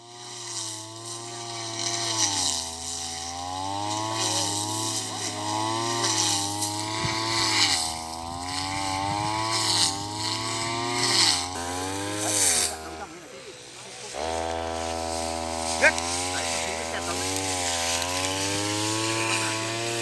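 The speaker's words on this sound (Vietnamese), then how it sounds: "Dùng cả máy cưa đi để mà cắt cỏ anh em ạ." A chainsaw cutting grass outdoors drones steadily close by, its pitch rising and falling as the engine revs, with a brief dip near the end before it picks up again.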